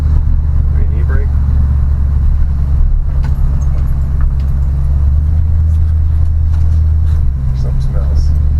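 A C10 pickup's small-block Chevy V8, freshly fitted with a new carburetor and fuel pump, runs at a steady, loud, rumbling idle throughout.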